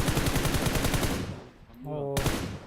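Rapid bursts of automatic gunfire in the mobile battle-royale game PUBG Mobile, a fast repeating stream of close shots for over a second, then a pause with a brief tonal sound before another loud burst.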